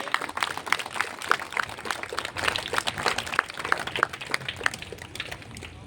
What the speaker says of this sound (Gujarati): આપણે મિત્રો જોરદાર તાળીઓના ગડગડાટથી એમને વધાવીએ